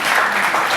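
Dense crowd clapping at a Nigeria Independence Day celebration in Las Vegas, a brief, loud, continuous burst of applause.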